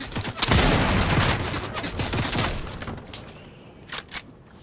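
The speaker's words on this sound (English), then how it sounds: "Stop shooting at me." Rapid bursts of gunfire rattle through a video game firefight, dense and loud at first, then thinning out, with a couple of isolated sharp shots near the end.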